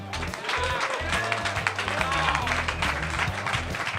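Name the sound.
audience applause for a guest coach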